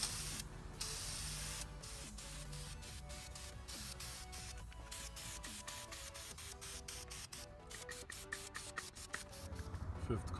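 Aerosol caliper paint sprayed onto brake calipers for yellow AMG-style brakes, a steady near hiss in repeated short bursts separated by brief gaps, with no voices.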